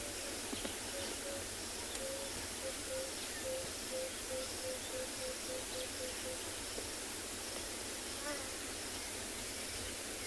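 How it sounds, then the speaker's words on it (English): A blacksmith lapwing calls at sunrise on a Tswalu safari, a faint repeated metallic note far off, heard under steady wind hiss and soft cooing of doves. "That's the blacksmith lapwing."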